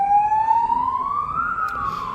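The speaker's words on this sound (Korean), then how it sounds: "앰뷸런스 오네요" An ambulance siren wails past a fuel station in Australia, its rising and falling tone loud and close over steady traffic rumble, shifting in pitch as it goes by.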